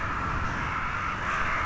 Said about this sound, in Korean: 제주를 찾는 떼까마귀를 사람들은 바람까마귀라고 불렀다.